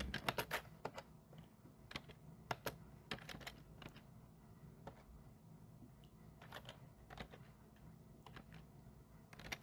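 Someone types on a worn computer keyboard with faded letters, making quick irregular bursts of clicking keystrokes, some sharp and close and some lighter, with short pauses between them and no talking.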